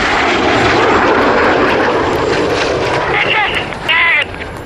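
RAF Red Arrows jets flying past at an air show in Turkey produce a loud, continuous engine roar with heavy wind buffeting on the microphone, dropping off near the end, with voices faintly underneath.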